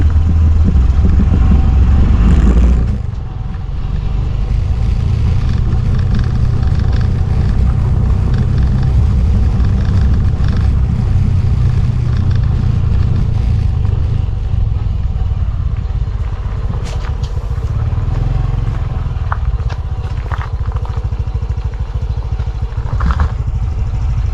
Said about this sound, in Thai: เดี๋ยวกูขี่ลงไปก่อนแล้วเดี๋ยวกูเร่งเร่งขึ้นมาใหม่